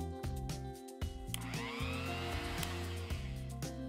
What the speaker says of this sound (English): Once done, we will let the spices cool down and then grind.